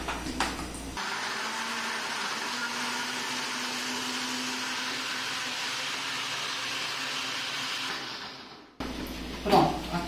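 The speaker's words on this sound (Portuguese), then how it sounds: "vou colocar no liquidificador para poder bater" A blender whirs loudly and steadily for several seconds blending acerola with water, then cuts off abruptly, followed by brief clattering noise.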